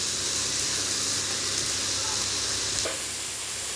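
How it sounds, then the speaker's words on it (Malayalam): Small onions sautéing in hot oil with ginger paste for chicken curry, a loud, steady close-up sizzle and hiss throughout, with a brief clatter near the end. "നന്നായിട്ട് തന്നെ വഴറ്റിയെടുക്കണം നമുക്ക്."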